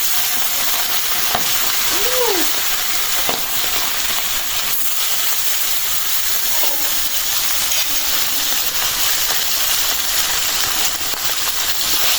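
Oily fish frying in hot oil for a fish curry: a steady, close sizzle with a bright hiss that runs unbroken throughout, plus a few soft clinks and scrapes from the pan.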